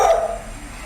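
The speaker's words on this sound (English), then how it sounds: "so it's actually a beagle" A beagle lets out a single short, high bark that quickly trails off into a faint fading tail, heard close and alone.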